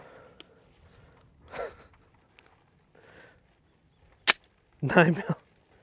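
Single sharp report from an unsuppressed Glock 17 pistol firing 9mm 115-grain full metal jacket rounds, a loud crack standing out cleanly with a brief echo after it, among softer handling noises and a short voice.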